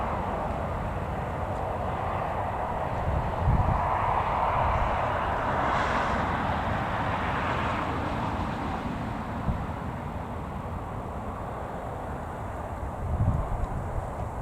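A small aircraft taxiing at Newcastle Airport gives a distant, steady engine drone that swells slightly, blended with continuous wind and outdoor ambience.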